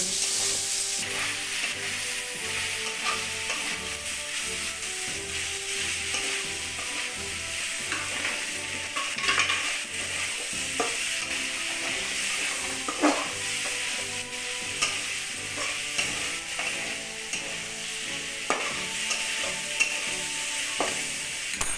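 Fish and prawns frying in oil for a Puri-style machha chingudi mahura, a dense continuous sizzle with scattered stirring clicks and scrapes, close and loud throughout.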